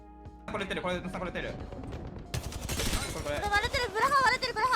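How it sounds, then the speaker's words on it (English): Rapid gunfire from an Apex Legends match, with several bursts of automatic shots crackling and stuttering over game sounds, while a commentator talks over the action. "Looks like they're getting shot at from somebody to the right."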